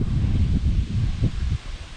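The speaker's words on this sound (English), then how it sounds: "Here it's getting windy." Steady wind buffeting the microphone with a low, rumbling roar that gusts and swells throughout.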